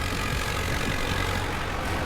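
A steady irrigation pump engine beside wheat fields near a river idles with a low, even drone and a constant rumble, running unbroken from start to finish with no voices.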